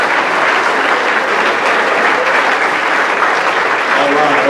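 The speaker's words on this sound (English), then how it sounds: "Let them know you're clapping for them." Audience applause at a mental health conference for frontline workers: dense, steady clapping from a large crowd, loud and close, sustained without a break from start to end.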